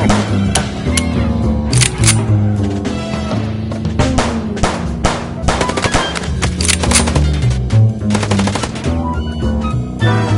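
Gunfire from the video game Chicken Police during a car chase: rapid bursts and single shots crack repeatedly and loudly over a driving engine and music bed for about ten seconds.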